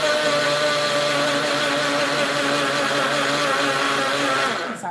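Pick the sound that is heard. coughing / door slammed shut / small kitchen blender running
small kitchen blender running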